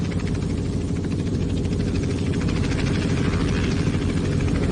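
Robinson R44 helicopter in flight in X-Plane 11, a continuous heavy engine drone with a rapid rotor chop, loud and close, holding steady for the whole stretch with no voices.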